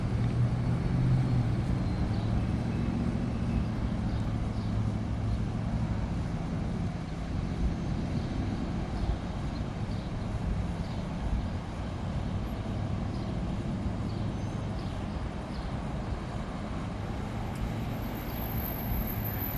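A Jaguar car drives through a stretch of private property, a broad low engine and tyre rumble that rises and then slowly fades over many seconds, with no one talking.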